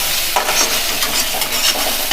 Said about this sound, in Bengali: ডালটাকে ভালো করে তেলের মধ্যে ভেজে নেব